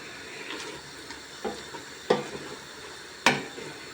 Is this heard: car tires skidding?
no